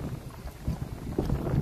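Gusty wind buffets the microphone in uneven low thumps and rumbles, fairly loud and close.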